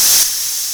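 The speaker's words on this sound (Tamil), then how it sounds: "குக்கர் விசில் அடிக்குது, போய் இறக்கி வைங்க." A pressure cooker lets off a short, sharp hissing steam whistle in a home kitchen. It is loud for a moment, then falls away quickly to a softer hiss.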